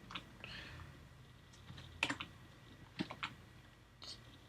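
Arrow keys tapped on a computer keyboard, a handful of soft close clicks in small clusters with gaps between, quiet with no talking.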